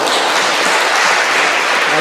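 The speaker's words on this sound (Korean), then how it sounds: "목사님 나오실 때 한 큰 박수로 환영하겠습니다" A church congregation applauds to welcome the pastor, a loud, dense and continuous wash of clapping from a crowd.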